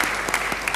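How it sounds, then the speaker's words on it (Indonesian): Brief burst of clapping from a church congregation, steady and fairly close, with no voices over it. "Beri tepuk tangan yang baik buat dia"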